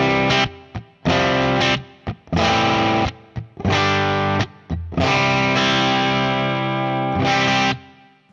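Electric guitar played through a Universal Audio OX Box at 50% speaker drive with no room sound, giving loud, distorted sustained chords separated by short gaps, dry and close.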